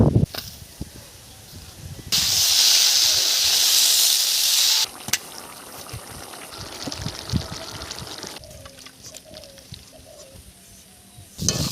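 A loud sizzling hiss rises suddenly for a few seconds, then fades into softer crackling and spattering, as of cabbage frying in hot oil.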